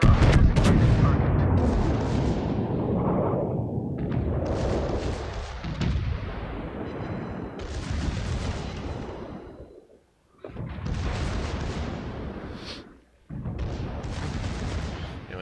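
Naval guns on the cruiser Salem fire volley after volley in World of Warships, loud rumbling booms rolling into one another with short gaps between salvos and faint game chatter underneath.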